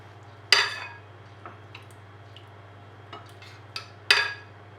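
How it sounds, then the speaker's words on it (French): Mushroom flan batter stirred in a bowl with a utensil, giving a few sharp clinks and scrapes against the bowl over a quiet steady hum, with soft stirring between them. "On n'hésite pas à redonner un petit coup de mélange au niveau de l'appareil"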